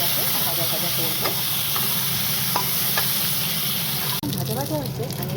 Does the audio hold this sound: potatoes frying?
yes